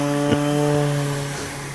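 A Courier aircraft engine spooling up at an airfield in Creswell, Oregon, a steady buzzing drone with strong tonal harmonics, fairly close and constant, slightly easing off toward the end, no voices.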